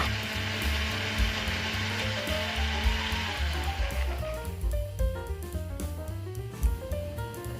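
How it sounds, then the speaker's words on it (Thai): Electric blender whirring as it purees durian flesh with coconut water, a loud continuous motor drone whose pitch shifts and wavers as the mixture churns, with no talking. "เสร็จแล้วก็เปิดเครื่องปั่นได้เลยค่ะ ปั่นส่วนผสมให้ละเอียดจนเป็นเนื้อเดียวกันค่ะ"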